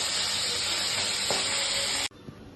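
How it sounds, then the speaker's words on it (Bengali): Fish frying in hot oil in a home kitchen gives a steady, loud broadband sizzle for about two seconds, then cuts off abruptly to a quieter hiss. "এবার বাকি মাছগুলো ভাজছি।"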